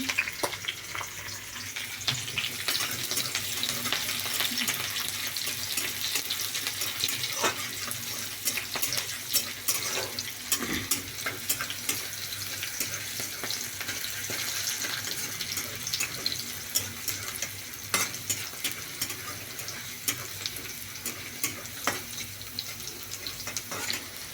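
Green chillies and chopped garlic frying in hot oil in a pan, with cumin already added, give a steady, dense sizzle that carries on unbroken, with occasional crackles and a few stirring clatters.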